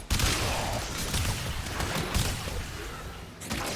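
The Incarnon Boltor Prime in Warframe fires full auto in dense, rapid bursts of gunfire, close and loud, with brief gaps between volleys.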